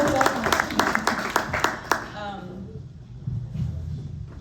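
Audience applause at a panel discussion on abstract landscape art, a burst of dense clapping that fades after about two seconds, followed by low murmuring and talk.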